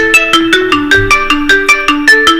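A phone ringtone sets off when the Xiaomi Smart Band 9 Pro find-phone feature is used, playing a loud, clear melody of evenly spaced tones that repeat steadily.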